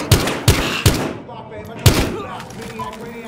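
Loud bursts of gunfire ring out in a Battlefield Hardline police shootout with armed suspects: three rapid shots, a brief pause, then a fourth, each trailing off into echoing game ambience.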